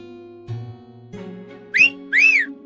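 Two short, loud, rising whistles blown by a person in a forest, coming near the end after a few soft knocks and a steady low hum.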